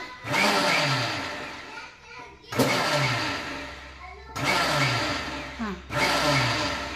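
Kitchen mixer churning cream into butter, whirring loudly in three or four bursts as it is switched on and off, with short pauses between runs.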